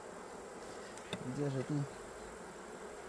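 Honeybees on hive frames give off a faint, steady hum close by, while someone speaks briefly over it.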